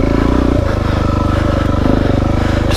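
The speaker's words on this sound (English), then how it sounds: "These first gear wheelies are fun." Suzuki DRZ motorcycle doing first gear wheelies on a trail, its engine loud and close with a steady pulsing drone that rises slightly in pitch as it revs, filling the whole stretch.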